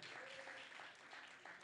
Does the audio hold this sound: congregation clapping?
yes